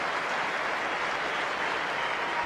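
Tennis crowd applauding at Indian Wells after a point between Djokovic and Dimitrov, a steady broadband wash of clapping held evenly throughout, fairly distant and alone without talk.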